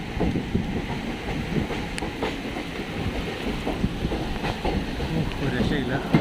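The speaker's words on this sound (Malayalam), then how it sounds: "നമ്മുടെ ട്രെയിൻ ഒരു തുരങ്കത്തിലോട്ട് കയറാൻ പോവുക" A passenger train near Dudhsagar rolls toward tunnel number 16, with a steady rumble, rhythmic wheel clatter and wind rush heard from on board, while voices murmur faintly in the background.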